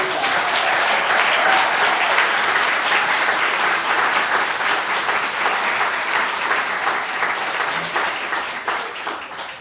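Church congregation at a Sunday homecoming service giving a warm round of applause, a full, sustained wash of many hands clapping close by that slowly thins toward the end.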